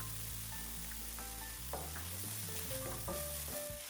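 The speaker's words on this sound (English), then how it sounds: "Sauté our aromatics, garlic, onion, and ginger for a minute." Garlic, onion and ginger sautéing in avocado oil in a pan give a steady close sizzle, with clinks of a utensil and some faint tonal background sound over it.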